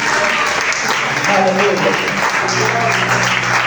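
Church congregation applauding during a Sunday sermon, a dense steady wash of clapping and cheering throughout, with a voice calling out over it.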